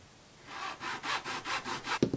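A piece of fishing rod handle is sawn off at close range: about six steady rasping back-and-forth strokes of even rhythm, ending in a short knock.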